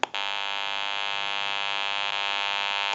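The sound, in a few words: electrical hum from telephone amplifier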